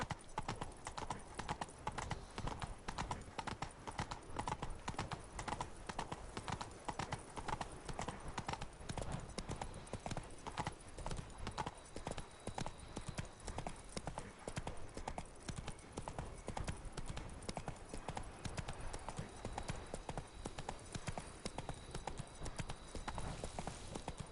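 Horse hooves clip-clop in The Witcher 3: Blood and Wine video game, a steady, fast rhythmic trot of crisp hoof strikes that holds through the whole stretch, with occasional game speech faintly underneath.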